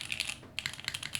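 Typing on a rebuilt mechanical keyboard with new switches, new keycaps and a new plate: a close, quick burst of clacky keystrokes, a brief pause, then another rapid run of presses.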